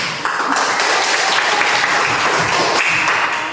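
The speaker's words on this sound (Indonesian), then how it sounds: "Kita berikan aplaus." Pupils in a classroom give a burst of steady, dense clapping that lasts a few seconds and fades slightly at the end.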